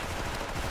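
A PSG-1 sniper rifle fires in the video game Special Force, a single loud, sharp gunshot whose boom fills the short moment, heard close.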